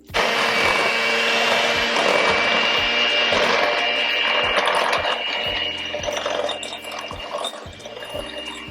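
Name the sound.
electric mixer mixing chocolate chip cookie dough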